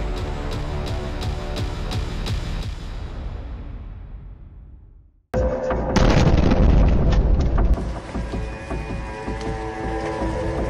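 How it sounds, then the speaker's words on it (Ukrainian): Deep, rumbling booms of missile and drone strikes in Dnipro, Ukraine, roll out and fade, followed by a sudden loud blast and sustained heavy air defense fire echoing across the distance. "Вибухи, влучання ракети, дронів та робота ППО."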